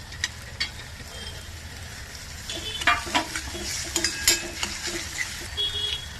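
Onion, ginger-garlic paste and tomato sizzle in a pan as a spoon stirs them, with soft frying hiss and irregular scrapes and clinks that grow louder partway through.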